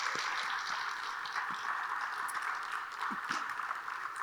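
Applause from an audience at an Appalachian State University honors college event, a steady, faint, distant patter of clapping that continues evenly throughout.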